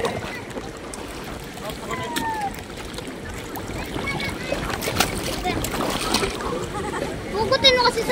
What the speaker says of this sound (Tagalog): Salok-salok lang ng tubig.